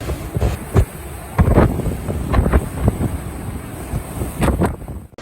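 Strong storm wind in Wellington, New Zealand, buffeting hard in repeated gusts, roaring bursts rising and falling over a few seconds with no voices.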